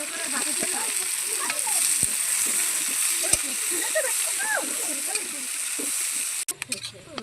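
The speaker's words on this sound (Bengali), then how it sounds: "আমার পেঁয়াজটা পুরো লাল করে আমি ভেজে নিয়েছি" Onions frying in hot oil in a pan give a steady, close sizzle with bubbling spatter throughout, and voices murmur faintly in the background before the frying noise cuts off near the end.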